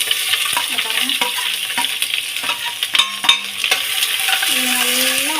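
Onions and green chillies sauté in oil in a pan, with a steady close sizzle broken by scraping stirs and a few clinks of a spatula, and no voices.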